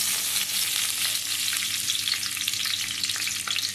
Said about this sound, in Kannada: ಎಣ್ಣೆ ಬಿಸಿ ಆಗ್ತಾ ಬರುವಾಗ ಜೀರಿಗೆ